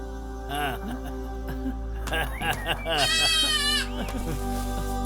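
A baby goat bleats several times in short wavering cries, near and clear, while people talk over and between the calls.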